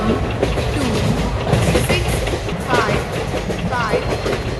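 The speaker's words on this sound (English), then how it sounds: "12655 Humsafar Superfast Express is arriving at platform number 1." An Indian Humsafar Superfast Express train arriving at a station platform: a steady, close rumble of wagons with rhythmic clickety-clack from the wheels, and indistinct voices in the background.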